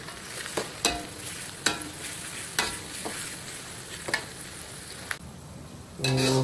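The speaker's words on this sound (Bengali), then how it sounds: "পেঁয়াজগুলো আমি ভালো মতো লাড়াচাড়া করবো" Onions being stirred and lightly fried in a pan, a continuous soft sizzle broken by sharp spatula scrapes and clacks against the pan at irregular intervals, without speech.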